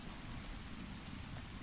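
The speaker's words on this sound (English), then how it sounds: "long stretches of silence, where all you hear is the thunder and the rain" Steady, dense rain hiss with a deep low rumble of thunder underneath, continuous and fairly faint, with no voices.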